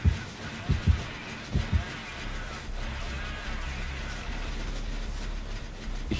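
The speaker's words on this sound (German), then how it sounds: "Das Problem ist, man hört immer das Herzklopfen an." Low, thumping heartbeat pulses signal an approaching killer in the horror game Dead by Daylight, coming in a few paired beats early on before fading under a steady low rumble.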